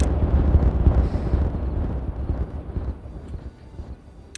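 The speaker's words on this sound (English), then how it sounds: "At the same time, we can detonate all of those." Explosives detonating in the Timberborn building game, a deep rolling rumble of blasts that starts strong and close, then slowly thins and fades into quieter debris noise, with no voices.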